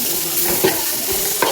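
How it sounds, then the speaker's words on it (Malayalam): Tomatoes sautéing in a hot pan for a biryani masala, a short close burst of spoon scraping and stirring over a continuous sizzle. "തക്കാളി ഇട്ട് നല്ല ഒന്ന് വരട്ടി കൊടുക്കാം ഗൈസ്"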